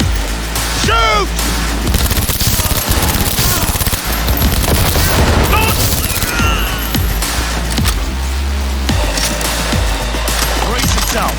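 Dense, continuous gunfire from a Cyberpunk 2077 firefight, rapid bursts and booms layered with shouting voices and game music, loud and close throughout.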